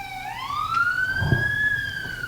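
A police car siren wails in a steady rising sweep, loud and close, with faint low rumble beneath and no talking.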